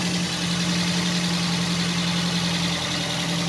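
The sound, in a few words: Toyota Vios engine idling roughly, shaking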